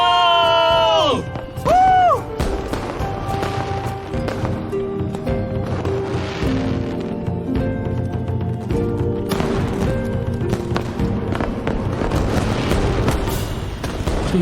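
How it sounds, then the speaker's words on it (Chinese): Fireworks burst in a dense, continuous barrage with booming pops and crackles under excited crowd noise, following a couple of rising whistles at the start. "这烟花好像比刚才要多了呀"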